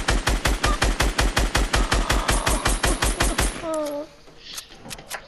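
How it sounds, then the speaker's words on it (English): Rapid automatic gunfire in a video game, a steady loud burst of evenly spaced shots that stops abruptly, followed by a brief rising electronic tone and a few scattered single shots. "Logan, there's people shooting from behind."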